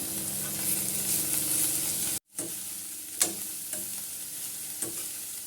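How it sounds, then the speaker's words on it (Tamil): Capsicum and other vegetables for veg noodles fry and crackle in a pan, a close, even sizzle that cuts out briefly before resuming with a few sharp spatula scrapes and knocks. "போட்டு இது எல்லாத்தையும் நல்லா வதக்கிக்கலாம்."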